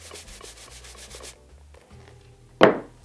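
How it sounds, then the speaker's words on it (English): Leather dress shoes being buffed by hand: a run of quick, even rubbing strokes up close, then a quieter pause and one sharp, louder swipe near the end, with no talking. "More buffing."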